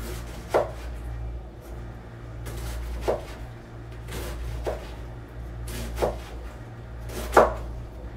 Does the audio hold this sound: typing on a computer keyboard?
no